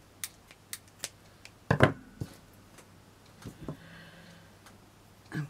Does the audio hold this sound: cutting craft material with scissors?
yes